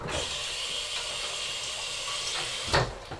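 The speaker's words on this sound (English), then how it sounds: "Hold on, I gotta rinse this one more time." Tap water runs steadily into a sink as something is rinsed under it, a close continuous hiss with a brief splash near the end.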